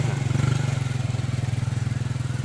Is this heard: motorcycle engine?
yes